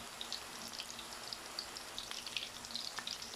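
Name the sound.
mutton koftas frying in oil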